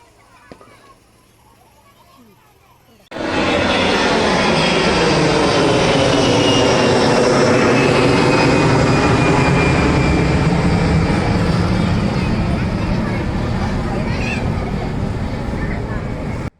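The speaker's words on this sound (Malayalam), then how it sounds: "ഫ്ലൈറ്റ് ഒന്ന് പോകുന്നതൊന്ന് കാണാൻ വേണ്ടിയിട്ട് കുറച്ച് നേരം വെയിറ്റ് ചെയ്തു." An airplane taking off from Karipur airport in Kondotty, its engine roar bursting in loudly after a quiet start and holding as a powerful sustained rumble and whine that slowly shifts as the aircraft climbs away.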